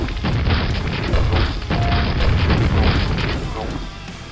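Grenade explosions in Quake's Necropolis level: a dense, continuous barrage of loud, deep booming blasts overlapping one another for several seconds.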